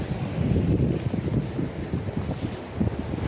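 Steady seaside wind at the Ban Na San shore in Hua Sai, buffeting the microphone with a continuous low rumble and gusty swells, loud and close, with no talking.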